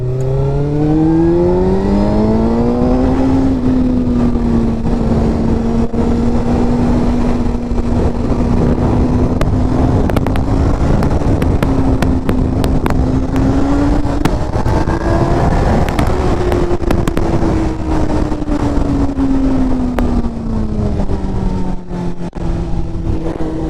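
A Suzuki GSX-R 600 sport motorcycle engine revs hard and climbs steadily in pitch, loud and close, pulling continuously with brief shifts before rising again.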